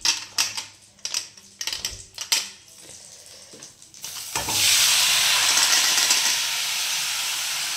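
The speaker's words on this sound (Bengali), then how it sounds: "কড়াইতে একটু লঙ্কা, একটা কাঁচা লঙ্কা দিয়েছি, একটু জিরে আর কালো সর্ষে দিয়ে এই যে একটু নেড়ে নিচ্ছি।" Several spoon clanks against a wok holding green chili, cumin and black mustard seeds, then green mango drops in and sets off a sudden loud, sustained hissing sizzle that runs close and steady to the end.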